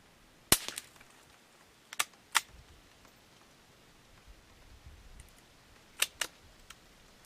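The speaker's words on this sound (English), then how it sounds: "I enjoy shooting this old rifle." An old Remington 510 Targetmaster .22 rifle with a 26-inch barrel fires five sharp, dry cracks, spaced out in pairs and singles, with quiet outdoor stillness between shots.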